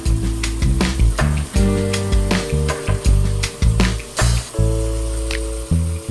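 A soapy beauty blender sponge being squeezed and rubbed in a cleaning mixture, giving repeated wet squishing pulses in an irregular rhythm, close and fairly loud.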